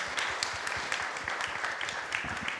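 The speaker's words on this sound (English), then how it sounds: "So I would give a round of applause to our panel." A conference audience at a blockchain week event in Taipei applauds a panel, giving sustained, dense clapping at a steady level throughout.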